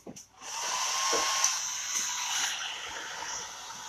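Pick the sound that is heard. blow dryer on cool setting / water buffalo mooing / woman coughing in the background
blow dryer on cool setting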